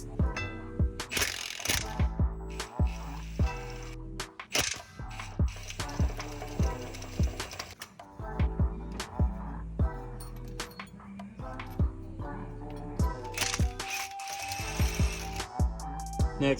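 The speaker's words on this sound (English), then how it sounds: "we're going to remove these bolts on the rear of the drive shaft" A ratchet wrench clicks in rapid bursts while loosening the rear drive shaft bolts at the CV joint of a BMW. The clicking is close and loud, broken by short pauses between runs.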